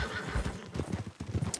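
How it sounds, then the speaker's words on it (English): Wild horses in the video game Red Dead Redemption 2: hooves clip-clopping in an uneven rhythm with a brief whinny, fairly close, amid a soft outdoor game soundscape. "Wild horses."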